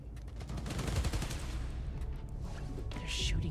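Rapid gunfire from a Spider-Man: Miles Morales game fight, dense bursts of shots over low rumble, loud and continuous, with a brief high electronic whine near the end.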